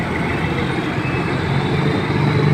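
A heavy truck hauling a trailer passes on a city street outside a 7-Eleven, its low engine rumble and road noise steady and loud across the whole stretch, with no voices.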